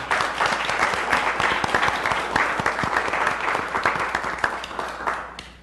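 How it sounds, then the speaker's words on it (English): A public safety committee meeting audience gives the fire department steady, full applause. Many hands clap continuously for several seconds with no talking. "So I think we should give a round of applause."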